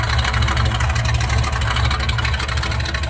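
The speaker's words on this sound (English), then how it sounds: "Engine's reported to have a mild cam." A 1978 Ford F150 engine with a mild cam idles steadily, a loud low throbbing rumble with a slightly lumpy pulse, heard alone.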